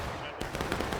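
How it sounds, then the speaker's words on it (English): Dense musket gunfire from a large American Civil War battle in War of Rights, rapid overlapping shots crackling close and far, with a voice talking underneath. "There is a ton of fire going on right now."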